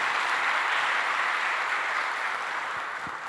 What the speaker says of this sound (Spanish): aplaudámosle a la palabra